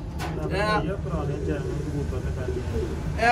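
Sialkoti pigeons coo softly in low, rolling calls beneath steady nearby talking, with a constant background hum.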